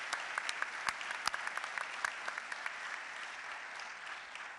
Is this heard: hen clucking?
no